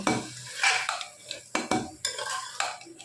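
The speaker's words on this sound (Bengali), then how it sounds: "ভালো করে মিশিয়ে নিচ্ছি" Chicken and onions are stirred in a frying pan, with a run of close, sharp scrapes and clinks of a metal spoon against the pan over a light sizzle, irregular and punchy.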